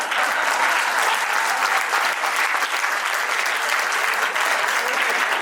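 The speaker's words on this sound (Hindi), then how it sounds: "क्यों ताली बजा रहे हो?" A crowd of listeners applauding at a business talk, a loud, dense, even burst of clapping sustained throughout, close and without breaks.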